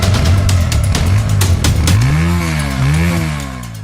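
A motorcycle engine revs loudly nearby, rising and falling in pitch through several throttle blips before settling into a lower idle.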